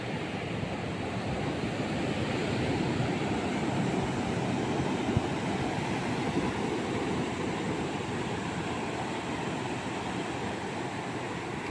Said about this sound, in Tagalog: Oh, laki ng alon.